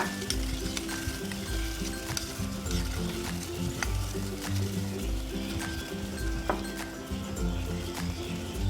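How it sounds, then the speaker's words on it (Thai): A pot of water boils hard on the stove while a Thai spicy cartilage soup is being made. A steady close bubbling and crackling hiss runs throughout, with a few faint clinks and no talking. "ขั้นตอนแรกก็ต้มน้ำนะคะ ให้เดือดจัดๆก่อนนะคะ"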